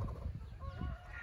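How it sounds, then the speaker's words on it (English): Faint honking calls of geese passing overhead, a few scattered cries over a low rumbling background. "Is he worried about the geese flying over his head?"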